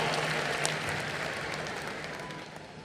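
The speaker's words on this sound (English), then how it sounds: "Round of applause for you." Steady applause from a crowd at a film festival closing ceremony, dense clapping that holds constant and slowly fades slightly over a few seconds.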